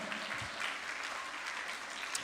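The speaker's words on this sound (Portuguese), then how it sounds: "dê uma salva de palmas aos seus pais, familiares" Children at a Catholic Mass clap for their parents and families, a soft, distant patter of applause from a church crowd, steady and low in level throughout the short stretch.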